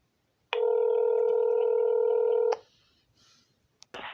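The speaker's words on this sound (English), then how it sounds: "So they put me in the queue and now it's ringing again." A single long, steady telephone tone sounds for about two seconds on the line, followed by faint line noise and a brief click.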